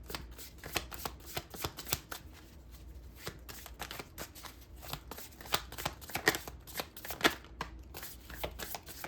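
Tarot cards riffle and shuffle in quick repeated bursts, a close, crisp papery flutter with soft snaps, continuing steadily with no talk.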